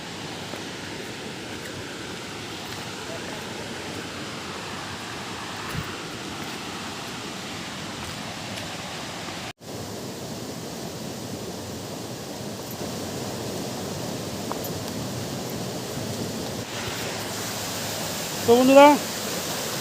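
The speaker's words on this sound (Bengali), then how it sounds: "জলের আওয়াজ টের পেয়েছো ওয়াটারফলস" Steady broadband rush of falling water from a waterfall near Ayodhya hill fills the scene, a constant noisy wash with a brief dropout midway; someone speaks briefly near the end over the roar.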